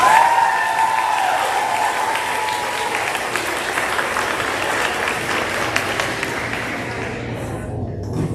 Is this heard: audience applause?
yes